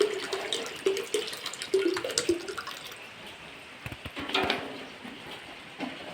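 Water being poured and stirred into a one-litre batch of WDS solution in a vessel, a close splashing and swishing with a few sharper clinks and swirls, growing quieter toward the end.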